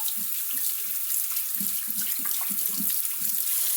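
Canned black beans are rinsed under a running kitchen tap, a steady close hiss of water with soft irregular splashes as the beans are tossed, and no talking.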